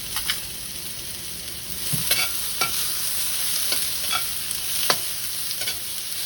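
Onions and tomatoes with ginger sauté in a hot pan, a steady close sizzle broken by repeated scraping stirs of a spoon at an irregular rhythm.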